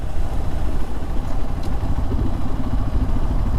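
A hovercraft engine runs at Dhanushkodi on the coast of India, a steady, dense mechanical drone with a rattling, clattering texture, loud and continuous throughout.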